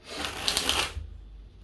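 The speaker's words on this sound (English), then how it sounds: "I'm going to give this 5 shuffles for you" Tarot cards being shuffled for a love reading: a dense, papery riffle lasting about a second, close and fairly loud, then falling quiet with no voice.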